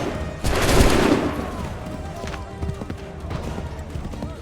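A loud musket volley rings out from a line of soldiers in the Assassin's Creed III Battle of Bunker Hill, a dense crackling burst followed by scattered fainter shots and a rumbling battlefield background.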